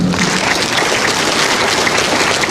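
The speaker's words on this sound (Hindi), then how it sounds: "यहाँ के टीम के लिए जोरदार तालियां एक बार" Loud, steady applause from a large audience at a Pyramid Society meditation gathering in Tripura, a continuous even roar of clapping with no talk.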